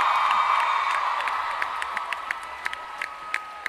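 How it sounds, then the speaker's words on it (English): Audience at a Comic Con 2015 panel for Once Upon a Time applauds and cheers in a dense, steady wash of clapping, with a few louder individual claps standing out near the end. "Please keep your applause going"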